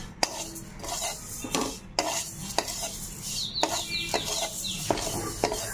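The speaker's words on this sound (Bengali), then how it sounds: "ডালটা মিডিয়াম আঁচে ভেজে নিতে হবে" Golden moong dal dry-roasting in a pan over medium flame, a spoon repeatedly scraping and knocking against the metal in an uneven rhythm over a light sizzle, close, with a chicken clucking faintly in the background.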